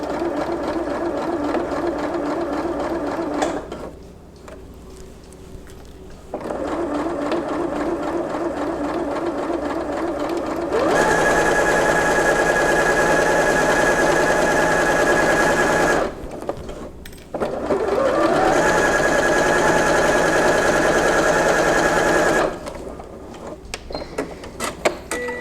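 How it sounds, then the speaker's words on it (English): A sewing machine stitching a seam along a diagonal line on quilting fabric, with a steady mechanical whir running in long continuous bursts and a few brief stops between them. "we are actually going to be sewing along the left side of that diagonal line"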